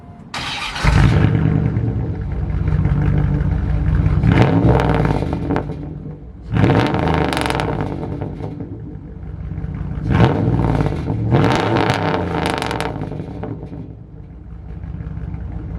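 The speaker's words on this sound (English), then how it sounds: "Let me show y'all an exhaust clip." A Ram pickup truck with a stock exhaust and its muffler cut rumbles loudly up close, revving in three or four separate bursts that swell and fall back to a steady idle.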